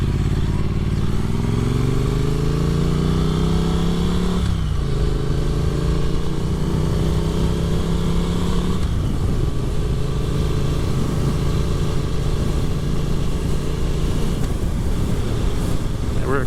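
A Triumph Street Twin motorcycle cruising on an evening road makes a loud, close engine drone that climbs in pitch through a couple of gear changes, with steady wind rush throughout.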